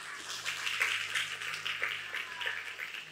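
A church congregation claps, a sparse, uneven patter of hands heard somewhat distantly over a faint hum, lasting a few seconds.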